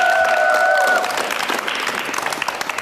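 A studio audience applauds warmly, steady dense clapping that starts under a brief musical tone and then thins slightly into scattered claps.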